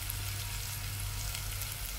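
Meat for dinuguan sizzles in a hot pan, a steady, close hiss and crackle of frying oil that holds evenly throughout with no voices.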